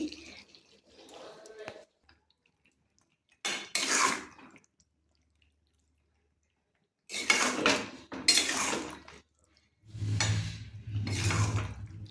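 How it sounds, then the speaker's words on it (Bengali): Chicken braising in a pan on a home stove, stirred with a utensil while a little sugar goes in. Intermittent clattering, scraping bursts of metal on pan come between quiet gaps, with a person talking at times. "এই যে বন্ধুরা আমার চিকেন কষা হচ্ছে"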